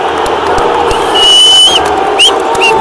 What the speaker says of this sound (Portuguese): Torcida aplaudindo.